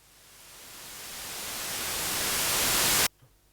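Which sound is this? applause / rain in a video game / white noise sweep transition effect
white noise sweep transition effect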